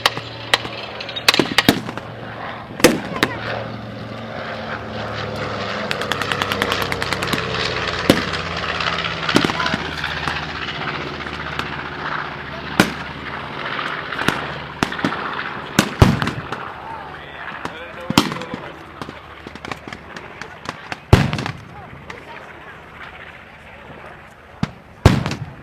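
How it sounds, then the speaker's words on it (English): A 1945 B-25 Mitchell bomber built in Kansas City passes over an airfield at a WWII reenactment. Its broad engine drone swells and fades under repeated sharp bangs of gunfire, with voices in the background. "Coming in from the right now, this B-25 Mitchell's Georgie's Gal, built in Kansas City in 1945."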